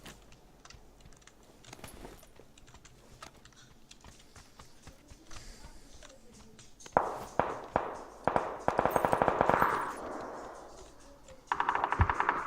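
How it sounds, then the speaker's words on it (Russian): Gunfire aimed at the player during a PUBG match: after a muffled stretch, loud bursts of rapid shots crack out in quick volleys, close and sharp, with clusters of rattling fire separated by brief pauses. "Не, он по мне стреляет."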